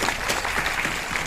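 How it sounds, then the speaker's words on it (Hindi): Dense audience applause, steady and bright, filling a short stretch at a comedy award show, with the performer's own clapping lost in the crowd. "मैं भी ताली बजा रहा हूँ उसके लिए।"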